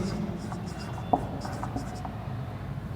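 Pen or marker strokes on a board during a zoology lecture on fish scales, a steady scratchy writing texture with a sharper tap near the middle, close and moderately quiet with no talk over it.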